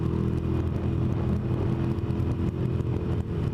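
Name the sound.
motorcycle exhaust without baffles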